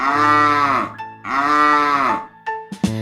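Cows on a farm moo in two long, loud, drawn-out calls, with a shorter low grunt at the end, in a children's song about farm animals.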